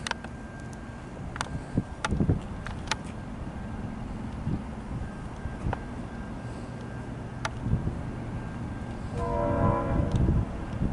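An N class train rumbles and clanks into South Geelong station, with a brief horn near the end and a steady low background hum.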